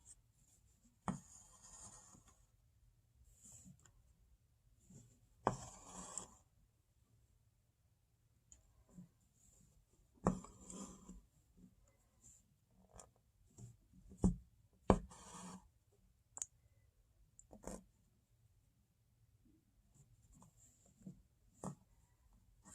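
A marker or pen draws lines across fabric to connect points for straight stitches, producing soft, scratchy strokes in short separate bursts with quiet pauses between them, close and faint.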